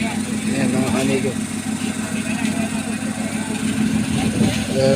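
A truck that carries fish idles with a steady mid-pitched engine rumble, while people talk close by over the running motor.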